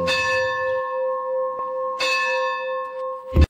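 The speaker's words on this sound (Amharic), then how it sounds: "ደውል።" A church bell rings out clearly with a long sustained metallic tone, struck again about two seconds in so the ringing swells anew, then a final clang near the end.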